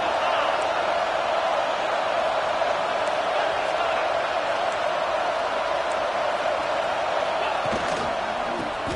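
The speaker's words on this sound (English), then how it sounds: "they try to quiet this raucous, crazy crowd" A raucous football stadium crowd at an Oklahoma versus Notre Dame game roars in a sustained, dense wall of cheering, loud and continuous throughout.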